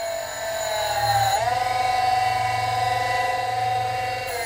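A Sanford surface grinder's wheel grinds steadily across the table in a sustained, loud whine with a low hum beneath, its pitch dipping briefly partway through and then holding even.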